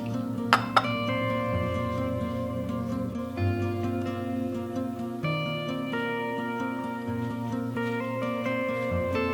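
Vintage milk glass cups and saucers clink together as they are set on a table, with a couple of sharp, bright taps near the start and then soft ringing tones over a steady background of music.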